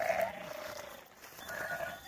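Sheep bleat on a farm, a couple of wavering calls at moderate distance, the first at the start and another toward the end, with low background noise and no talk.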